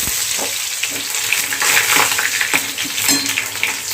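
Cumin, curry leaves and crushed garlic crackling in hot oil, a loud close sizzle with spluttering pops and stirring scrapes throughout.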